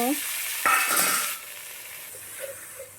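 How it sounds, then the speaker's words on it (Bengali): Dried chili, cumin and five-spice hitting hot oil in a wok for a chalta pickle, a sudden loud sizzle burst that quickly fades to a quieter frying hiss, no talking. "কড়াইতে তেল গরম করে শুকনো লঙ্কা জিরে 5 ফোড়ন দিয়ে দিচ্ছি"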